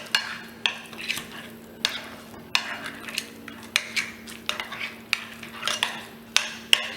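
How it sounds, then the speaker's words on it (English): A spoon scrapes and clinks against a bowl while ginger paste marinade for chicken tikka is stirred, giving repeated sharp taps in an irregular rhythm over a low steady hum, close and fairly loud. "So I'm gonna mix this all"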